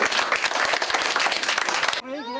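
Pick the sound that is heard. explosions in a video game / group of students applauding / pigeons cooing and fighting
group of students applauding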